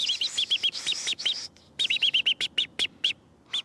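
A person imitates a robin's alarm call with rapid whistled chirps, a quick repeated string of high tweets, a short break, then another run of sharp separate chirps, close and clear.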